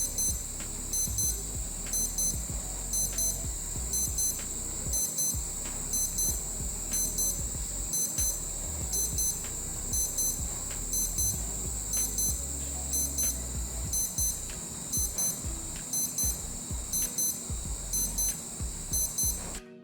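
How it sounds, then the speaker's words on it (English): A Casio F-91W digital watch alarm beeps in a fast, repeating high-pitched pattern, in short bursts separated by brief gaps, with a low background hum running throughout. "Now for the alarm test."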